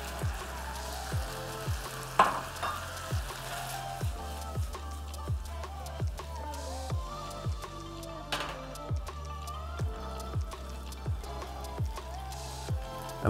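Asparagus risotto with peas and butter bubbles softly in the pan, a moderate sizzle under regular rhythmic stirring strokes that repeat about once a second, close and steady.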